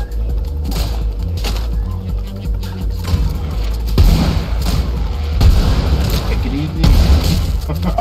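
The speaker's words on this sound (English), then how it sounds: "I was too busy watching the explosions." Explosions in the video game ROUNDS, with a counter rocket and mortar weapon firing: repeated booming thuds and crackling bursts at a steady loud level for about eight seconds, with no speech.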